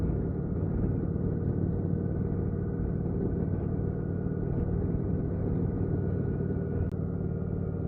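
A Kawasaki Vulcan 900 motorcycle on the move, giving a steady, low engine drone that stays even and continuous throughout, mixed with road and wind rumble.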